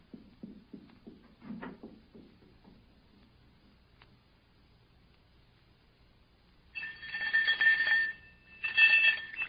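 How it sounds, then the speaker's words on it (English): Faint muffled knocks and shuffles, then two loud electric ringing bursts of a bell, the second shorter, with no talking. "Ring the doorbell. I'll hear it. Ring it loud."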